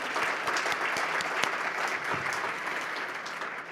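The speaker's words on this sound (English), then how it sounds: "You can give that an applause." A conference audience breaks into steady, dense applause, many hands clapping together at close range without a break.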